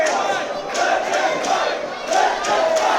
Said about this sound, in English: Crowd here wants to see a fight.